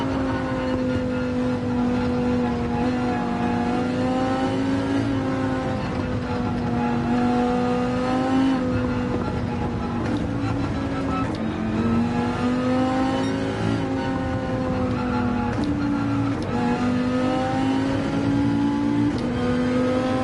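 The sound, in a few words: car engine accelerating on throttle in Gran Turismo 7 video game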